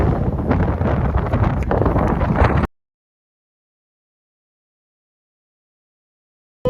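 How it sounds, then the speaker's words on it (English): Heavy wind on a golf course buffeting the microphone in loud gusty rumbles, cutting abruptly to silence after a few seconds. "It's so damn windy out here"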